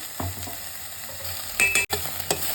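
Gobi manchurian frying in a pan while being stirred, a soft sizzle broken by a few sharp scrapes and clatters of the spoon against the pan, with no talking.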